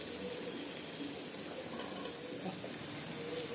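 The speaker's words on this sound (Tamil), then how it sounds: "இப்போ பீன்ஸு கேரட்டு போடுறோம்" Beans and carrots frying in a pan for wheat rava kichadi, a soft, even sizzle with faint stirring texture throughout, quiet and close, with no talking.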